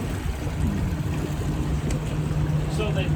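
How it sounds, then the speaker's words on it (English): A fire boat's engine drones steadily on open water, a low continuous rumble mixed with wind and wash of water, close and unbroken, with a voice faintly present. "this is our fire boat"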